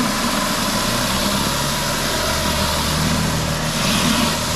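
A pressure washer surface cleaner spins across a floor, giving a steady, loud engine-like drone with a constant low hum and broadband hiss that continues unbroken throughout, with no talking.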